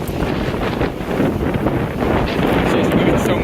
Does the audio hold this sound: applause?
no